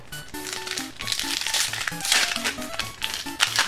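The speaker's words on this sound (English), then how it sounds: "I'm going to open up the Mega Heracross pack" A Pokémon card booster pack wrapper is torn and crinkled open close by, with continuous plastic rustling and crackling while faint music plays underneath.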